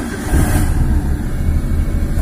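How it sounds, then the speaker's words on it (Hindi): A Maruti Suzuki Alto petrol engine runs just after a half engine overhaul, a steady low rumble with a brief swell near the start, close by and without talk. "गाड़ी स्टार्ट हो गया है"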